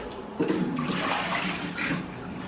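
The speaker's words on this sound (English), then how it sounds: "I'm going to go ahead and empty the water from here" Water pours out of a Keurig brewer's reservoir in a brief steady splashing gush, close and moderately loud, with no talking.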